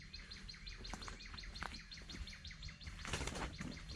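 Small birds chirp in quick, repeated tweets against a quiet outdoor background beside a creek, the calls faint but steady throughout.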